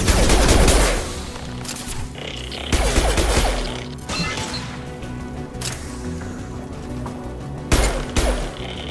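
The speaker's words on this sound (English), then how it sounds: "Firing a high-impact shot!" Heavy high-impact gunshots from the Mass Effect 2 video game boom out in a few loud, separated bursts, each followed by a decaying crash, over a low background hum.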